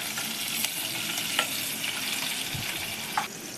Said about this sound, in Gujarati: હવે તેલ ગરમ થઈ ગયું છે, એમાં મમ્મીએ લીલા મરચાં નાખી દીધા છે. એને થોડા ફ્રાય થવા દેવાના છે